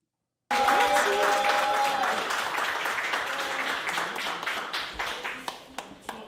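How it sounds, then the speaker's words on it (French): A studio audience breaks into sudden applause, a dense burst of clapping that starts abruptly and gradually thins out to a few scattered claps over several seconds. "Applaudissez-la s'il vous plaît."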